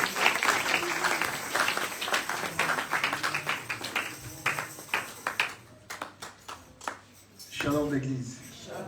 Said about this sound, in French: Est-ce qu'on peut encore applaudir fortement pour la gloire de notre Dieu?